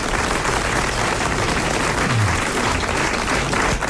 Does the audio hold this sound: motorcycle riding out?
no